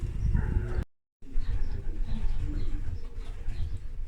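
Racing pigeons coo softly as they return to the loft after a race from St Malo, a low, rounded cooing that continues on both sides of a brief silent gap.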